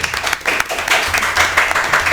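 Audience applause at a university sports event, a steady patter of clapping hands filling the space for about two seconds, close and dense, with faint voices underneath.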